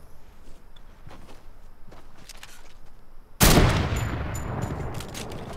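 Sniper rifle gunfire in the mobile shooter Fortnite Mobile: a loud, sudden heavy-sniper blast cuts in near the end after a few seconds of quieter shuffling in-game movement, its roar lingering and slowly decaying.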